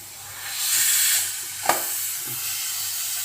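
Steam hisses from a cooker, rising for a moment then easing, with a sharp click partway through and a faint steady hiss after.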